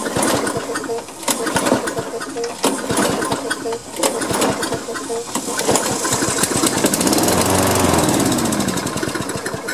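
The Tecumseh engine on a Toro Recycler lawn mower cranks over repeatedly, giving rapid mechanical chugging close up. It later catches into a steadier, louder running drone, and a person talks along the way.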